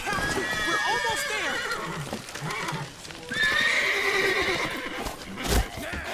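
Horse in The Witcher 3 neighs loudly with whinnies rising and falling, set against clip-clopping galloping hooves, with a sharp thump near the end.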